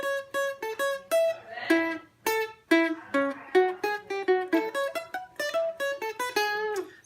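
Clean guitar plucks out a tune as a lesson demo, a quick bouncy run of single picked notes with short rests, close and clear with no talking.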